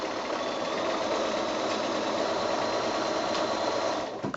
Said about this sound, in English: It's just some straight line sewing.